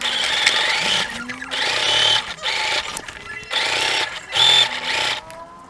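A sewing machine stitches the side seam of mom-fit jeans in several bursts of rapid, buzzing whir separated by short pauses, close and loud with no talk.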